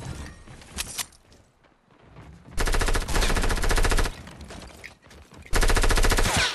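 Rapid automatic bursts from a SCAR rifle in the Fortnite video game come in two long, loud, sustained volleys, separated by quieter game noise.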